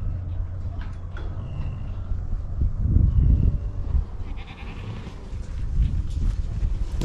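Goats bleating on a farm in California, their calls faint and scattered over a steady low rumble of outdoor background noise.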